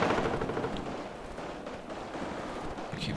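An M2 Bradley fighting vehicle fires its gun in the Cold War strategy game Warno, a dense, rumbling burst of rapid gunfire that stays loud and continuous, with no voice over it.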